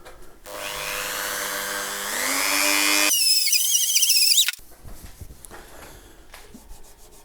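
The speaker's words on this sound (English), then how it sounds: "you need your Dremel at kind of a medium speed" A Dremel at medium speed polishes guitar frets on a Telecaster, whirring up with a rising pitch into a bright, steady high whine, then cutting off abruptly, leaving faint handling noises.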